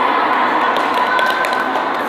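An audience at a student speech event breaks into loud, dense applause that holds steady for a couple of seconds, with a faint crowd murmur underneath.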